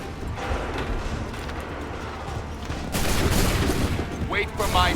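Musket volleys fire in Assassin's Creed III Remastered, a sustained crackle of shots that bursts louder and denser about midway, with scattered sharp reports and shouted voices mixed in.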